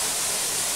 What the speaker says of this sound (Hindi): ये झरना आपका छछरिया झरना से प्रसिद्ध है यहाँ पे